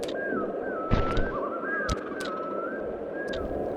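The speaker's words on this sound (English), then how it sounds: "That bird call, which you may have heard in a number of movies, is from something called a loon." A loon calls across an aurora-lit lighthouse setting in Sly 2: Band of Thieves. Its long, wavering wail rises and falls over a steady ambient bed, with a few soft thuds from the game in between.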